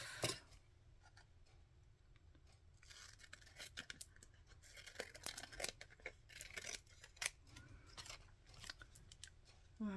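Scissors snip through paper for a collage in a quiet room: a steady series of small, crisp cuts and rustles, fairly close but soft.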